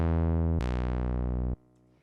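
Analog synth bass patch from Ableton's Analog instrument: two sustained, rich buzzy bass notes, the second brighter and held for about a second, then cut off, leaving a faint decaying tail.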